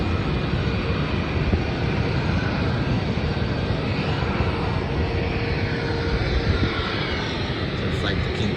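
A Rex Airlines Saab 340 turboprop sounds during takeoff as a loud, steady engine roar with a broad propeller drone that stays strong and constant the whole way through.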